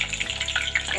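Parwal (pointed gourd) and potato pieces fry in hot oil, a close, crackling sizzle with small irregular pops over a brief moment.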